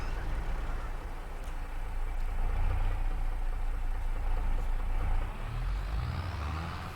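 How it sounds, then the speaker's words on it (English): A Steyr tractor engine idles in Farming Simulator 22 with a steady, dense low rumble and broad mechanical noise that holds evenly throughout, with no talking over it. "we do need to use the mighty Steyr tractor"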